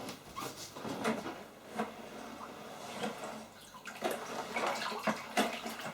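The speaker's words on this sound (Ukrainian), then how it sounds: "гарно ретельно перемішую цукор" Sugar, seven kilograms in all, is stirred into warm water in a bucket, giving soft, irregular sloshing and swishing strokes with faint scraping, quiet and close.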